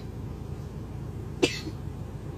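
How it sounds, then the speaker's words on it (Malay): A single short cough cuts through a quiet low background hum, close and brief, with nothing else standing out. "Batuk."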